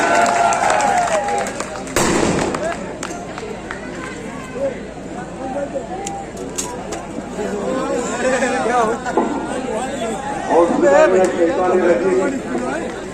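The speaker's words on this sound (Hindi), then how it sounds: "तालियों की गड़गड़ाहट कम नहीं होनी चाहिए" Sustained applause and crowd noise fill a Majlis Ittehad ul Muslimin political rally in Jafar Nagar, a broad clapping wash mixed with chatter and a few sharper bursts throughout.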